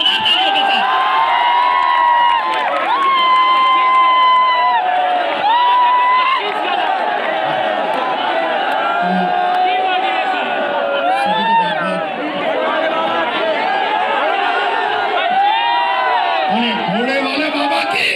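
A large audience at a coaching seminar cheering and shouting loudly with whoops and a steady roar of voices, sustained throughout at close range with little let-up.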